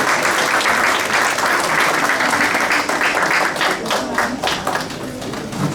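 A church congregation applauds Max at a baptism: loud, sustained clapping from a crowd with a rapid, busy patter that holds steady, a few sharper individual claps standing out near the end.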